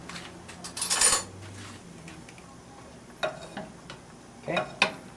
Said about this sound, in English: I need to stir that around.